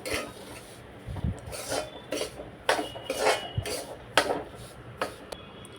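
A ladoo mixture of green moong and jaggery with ghee is stirred in a hot kadhai, producing repeated rasping scrapes of a spoon against the pan in an irregular rhythm, close and continuous with no talk.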